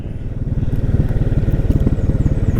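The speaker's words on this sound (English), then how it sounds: "So let's test the CVT braking, engine braking." The single-cylinder, long-stroke engine of a 2023 Can-Am Outlander 700 XT thumps under engine braking, a loud, close, rapid pulsing beat that steadies as it winds down.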